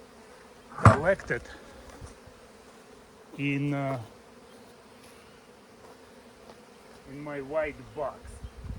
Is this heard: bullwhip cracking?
no